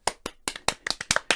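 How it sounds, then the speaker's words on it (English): Several distinct hand claps, close and crisp, about eight sharp claps in quick, slightly uneven succession from one or a few people on a podcast. "Applause, please."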